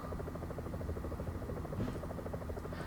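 Steady helicopter rotor drone from a helicopter flying over a bike race in the cycling game Pro Cycling Manager 2019, a continuous buzzing whir at constant loudness with no talk.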